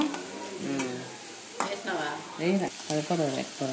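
Onions and ginger-garlic paste sizzle in hot oil as a chicken fry is cooked, a steady frying hiss with occasional stirring scrapes under a voice talking.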